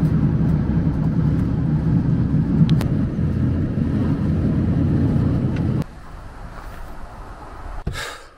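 A van drives along a road with a steady low engine and road rumble for most of the stretch, which drops to a quieter cabin hum near the end and is broken by a brief sharp knock.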